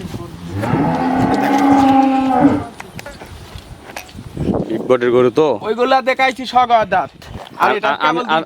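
Cattle on a Bangladeshi dairy farm in Pabna low out with a long, loud moo lasting a couple of seconds near the start, followed by someone talking nearby.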